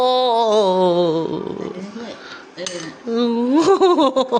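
A metal ladle scoops boiled Mama instant noodle soup out of a pot, with clinks and light clattering of utensils against the pot under loud, close voices talking and exclaiming.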